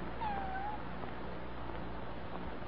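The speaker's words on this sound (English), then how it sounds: "What is that? Is that a cat?" A cat meows once near the start, a short rising-then-falling cry within an old-time radio drama (Lux Radio Theater's This Gun For Hire), set over steady broadcast hiss and low hum.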